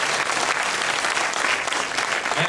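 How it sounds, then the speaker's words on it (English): Convention crowd applauds the volunteers at a fan convention, a thick burst of clapping from a sizeable audience held at a steady level, without talk on top. "please give some applause for the volunteers who volunteered their time"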